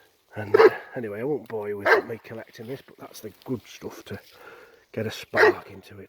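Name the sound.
dog barking, wanting a pine cone thrown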